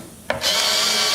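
Torx T15 screws being backed out of a carbon fiber panel on a C8 Corvette with a power driver: a short tap, then a steady close whirring drive that keeps running.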